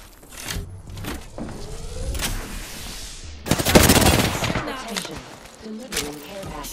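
Rapid video-game gunfire crackles in dense bursts, a heavy volley swelling in the middle before tapering into scattered shots, with some mechanical clatter between.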